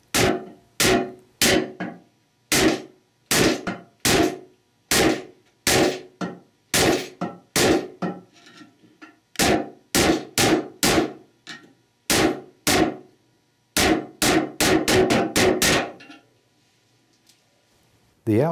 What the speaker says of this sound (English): use a large flathead screwdriver and hammer to collapse the metal cladding